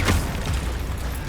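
A Confringo fire spell bursts in Hogwarts Legacy with a dense, rumbling boom. It is loud and low, with a sharp onset that rolls into a brief roar.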